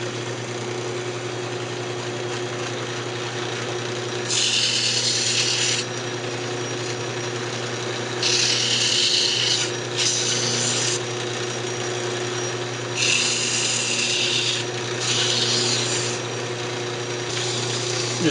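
Sandpaper rubs against a spinning maple box lid on a wood lathe, a steady low motor hum running throughout with repeated bursts of harsh, hissy abrasion coming and going.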